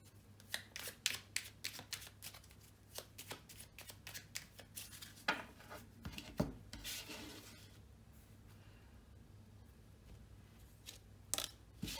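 Oracle cards from a small forest-themed deck are shuffled and drawn by hand: quiet papery riffles, rubs and soft slaps come in bursts, close and faint, then ease off into near silence before a last card flick.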